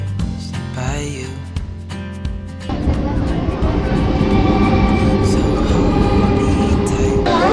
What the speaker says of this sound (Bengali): ট্রেন চলে গেছে তার শেষ গন্তব্য মানে হাসনাবাদের উদ্দেশ্যে